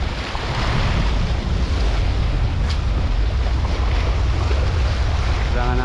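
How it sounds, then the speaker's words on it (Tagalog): Large ocean waves break at a fishing spot along the shore, a loud continuous roar of surf mixed with wind buffeting the microphone. "Malalaki yung alon dito."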